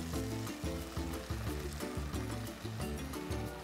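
Sizzling frying from a pan of sautéed tomatoes as a ground paste of coconut and roasted gram is added for a tomato kurma, a steady hiss heard under rhythmic background music.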